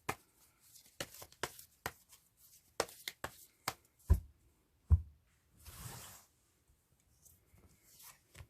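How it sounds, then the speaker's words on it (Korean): Tarot cards are shuffled by hand in a quiet room: a series of crisp, close riffling snaps and slaps in an uneven rhythm, followed by a softer sliding rustle, with no talking. "셔플 하겠습니다."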